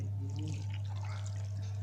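Clean water pouring over homemade butter to wash it, a soft, steady trickling splash heard faintly over a constant low hum.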